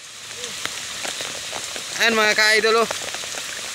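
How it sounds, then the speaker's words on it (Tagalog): Steady rain falls at the seaside with an even, hissing patter throughout, while someone speaks briefly over it. "inaabot kami ng ulan"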